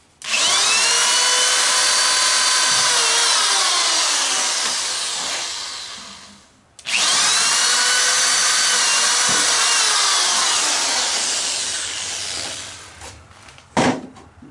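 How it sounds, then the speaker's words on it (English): A power drill whines loudly at close range through two long bursts as it pre-drills wood for a glider swing, with the pitch sagging under load, then a sharp clunk. "I'll pre-drill through this"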